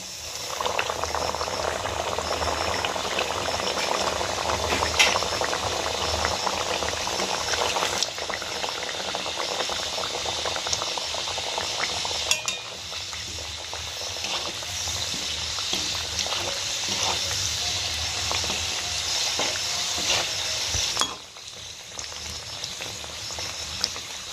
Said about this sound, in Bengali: কারণ এটা ছাঁকা তেলে ভাজা হবে